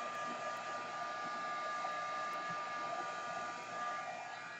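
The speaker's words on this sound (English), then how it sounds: "this is why I prefer a hairdryer" A hair dryer runs continuously while drying paint on a canvas, a steady close whirring hum with an even tone and no breaks, heard alone.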